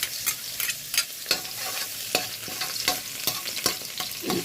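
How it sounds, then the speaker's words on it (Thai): Garlic fries in oil in a pan over gentle heat, a steady close sizzle broken by repeated scraping stirs from a utensil, with no talking. "ตั้งกระทะแล้วก็ใส่กระเทียมลงไปค่ะ"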